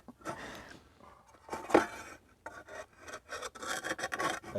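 Old gasket material is scraped off a 2000 Mustang rear differential in uneven rasping strokes, close and moderately quiet, with short pauses between passes.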